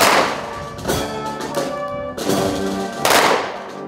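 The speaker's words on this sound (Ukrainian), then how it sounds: "пам'ять загиблих вшановують пострілами почесної варти під час" Honor guard firing a memorial salute during the Ukrainian national anthem at a Zakarpattia war remembrance ceremony: several loud, sharp rifle volleys about a second apart, each followed by a ringing outdoor echo.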